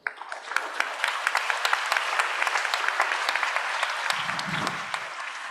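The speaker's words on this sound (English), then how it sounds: "a big round of applause to all of them." A conference audience at a planetary health event gives a round of applause, with steady, moderately distant clapping from a crowd that holds even for several seconds, plus a brief low murmur near the end.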